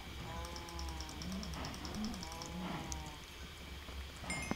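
Cows moo in the Minecraft video game, several low drawn-out lowing calls overlapping one another, under a steady buzz of ticking game effects and background noise.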